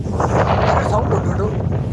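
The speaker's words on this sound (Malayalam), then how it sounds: "ഇങ്ങനെ കാറ്റ് കറങ്ങുന്നത്, കാറ്റിനെ വെട്ടിക്കിട്ടുന്ന സൗണ്ട്." Wind turbine blades turning on the hilltop at Ramakkalmedu make a steady, loud broadband whoosh and roar up close, with faint muffled voices mixed in.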